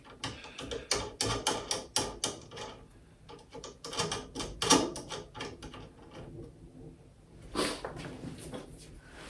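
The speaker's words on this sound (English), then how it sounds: "Have a socket wrench here, 15/16. Tighten up the jam nut." A 15/16 socket wrench tightens the jam nut on a Hornady Lock-N-Load AP reloading press, making a run of quick close ratcheting clicks and clunks in bursts, then a pause and a few more clicks.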